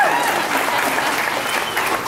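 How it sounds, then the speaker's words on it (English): A theater audience at a Star Wars Weekends 2015 celebrity panel applauds steadily, a dense, even wash of clapping that fills the whole stretch without pause. "I'll take cheap applause anytime."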